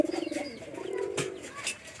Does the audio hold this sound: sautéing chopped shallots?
no